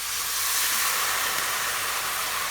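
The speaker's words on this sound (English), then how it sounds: "I'm going to add 1 cup of red wine" A cup of red wine hits a hot pan for shepherd's pie and sizzles in a loud, steady, close hiss that holds evenly throughout.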